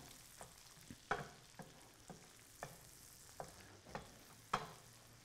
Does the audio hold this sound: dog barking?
no